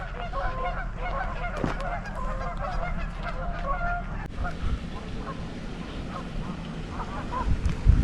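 Geese honk and call repeatedly at a distance over steady outdoor background noise, a chorus of overlapping honks with no talking.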